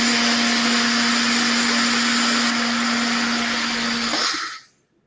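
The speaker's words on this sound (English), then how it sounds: "I'm such a fan of this little Tri-Best blender that I use it for all my dressings" A small Tri-Best blender whirs loudly and steadily as it mixes salad dressing, then cuts off abruptly near the end, leaving silence.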